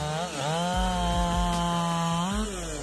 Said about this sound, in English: this chainsaw cuts through towering oak trees like a hot knife through butter